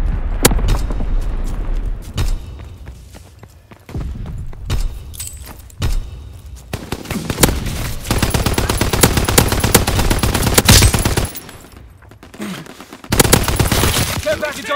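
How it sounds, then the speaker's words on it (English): Mortar rounds exploding in the World War II shooter Call of Duty: WWII, heard as sharp blasts followed by long stretches of dense, rapid crackling fire, loud and close, with brief voice lines between. "Searching for targets. Sending mortar rounds."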